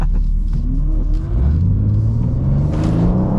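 A 2023 BMW M2 with an 8-speed automatic revs hard while drifting on a wet skidpad, a loud close engine rising in pitch through first gear into second with a steady rumble.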